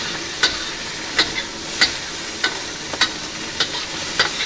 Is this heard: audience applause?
no